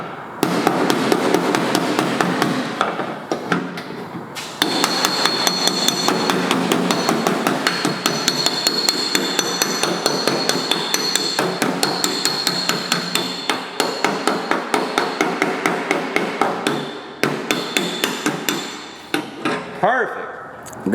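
A hammer strikes a painted body panel of a wrecked GMC Yukon XL in a rapid, steady rhythm of sharp metallic blows, close and loud, with short pauses near the start and toward the end.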